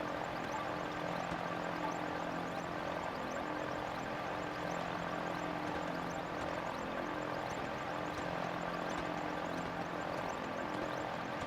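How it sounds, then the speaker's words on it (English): A steady engine drone hums continuously while flying a craft in The Legend of Zelda: Tears of the Kingdom, a constant mid-level whir with no breaks and no voices. "Sorry about the engine noise."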